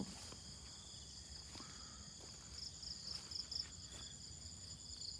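Insects chirp steadily in a rice paddy on a fresh morning, a continuous high shrill drone with a few brief brighter bursts, heard alone over faint low rumble.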